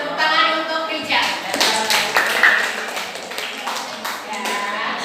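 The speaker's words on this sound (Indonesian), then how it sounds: "Kasih tepuk tangan untuk Rijal" Classmates in a school lesson clap for a student named Rijal, scattered uneven claps rising and fading under people talking in the room.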